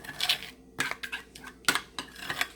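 A spoon stirs a honey face mask mixture in a bowl, giving short bursts of clinking and scraping in four uneven clusters, close and fairly quiet, with no voices.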